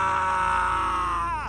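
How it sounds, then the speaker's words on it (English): A horrifying scream rings out in a yard, a sustained, loud, strained vocal cry that holds steady before bending and trailing off at the end. "I heard horrifying screams in the yard."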